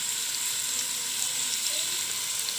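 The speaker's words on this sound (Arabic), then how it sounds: "ننزل بقى بالبصل" Onions fry in a pot while chicken and stuffed vegetables cook, a steady close hiss of sizzling oil that carries on evenly throughout.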